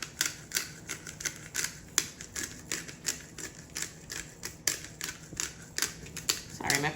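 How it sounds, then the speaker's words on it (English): A pepper grinder cranking out pepper while cooking salmon packets, a close, fast run of dry ratcheting clicks that keeps going in uneven bursts, with a voice speaking alongside it. "my pepper grinder is not the best, so it takes a second"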